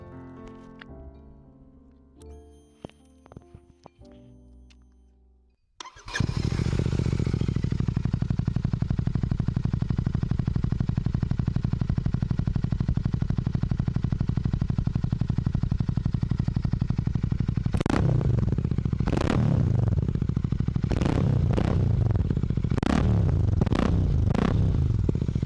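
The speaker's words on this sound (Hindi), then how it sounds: "एक बार मैं आवाज सुना दूं भाई तुमको इसकी, बताना कैसी लगी रेड रूस्टर की आवाज।" Royal Enfield GT 650 motorcycle fitted with a Red Rooster aftermarket exhaust, starting up after some clicks and then idling with a steady, loud, close rumble, with sharp throttle blips near the end.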